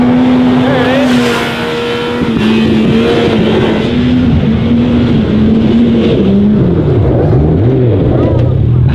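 A Yamaha YXZ1000R SS side-by-side pulls out onto a race track, its engine droning loud and close with pitch rising and dipping through gear changes, while voices talk over it.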